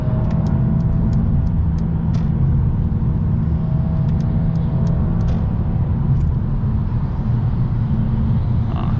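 Interior road noise of a 2021 Mercedes-Benz A 220 4Matic sedan merging onto a freeway: a steady, loud low rumble of engine and tires throughout, with faint high clicks near the start.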